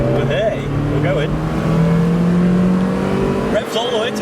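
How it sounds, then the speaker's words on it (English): A Mazda MX5 Miata with the top down in the rain, its engine revving up with a rising, sustained drone while driving, over road and wind noise, loud and close. "Revs all the way to 7k."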